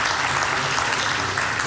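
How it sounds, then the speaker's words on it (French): Conference audience applauding after a talk on energy at a solar industry event, a brief burst of steady, dense clapping filling the room. "Oui, on peut vous applaudir, bien sûr."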